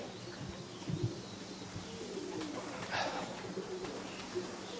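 Racing pigeons come in to a Polish loft at Czersk, their soft coos faint and scattered against a quiet outdoor background, with a few muffled sounds of movement and no clear speech.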